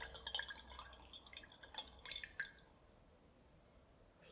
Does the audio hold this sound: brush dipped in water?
yes